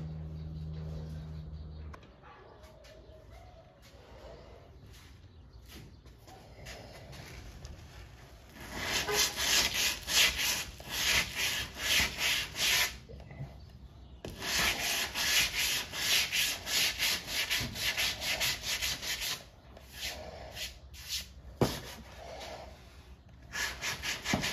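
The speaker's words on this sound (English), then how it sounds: "we'll go back and sand that, let it dry, and come back and sand it" Sanding along a filled cab seam on a Chevy C10 truck, a steady rasping scrape that comes and goes in long bursts, close and fairly loud, with no talking.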